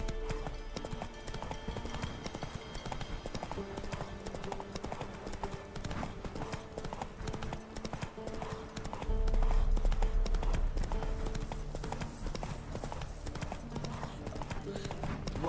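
Horse galloping in the video game The Witcher 3, steady rhythmic hoofbeats clip-clopping continuously over ambient game sound, growing slightly heavier partway through.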